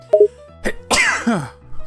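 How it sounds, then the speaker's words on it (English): A single sharp sneeze bursts out after a couple of short throaty sounds, close and fairly loud, trailing off quickly in a quiet room. "I sneezed."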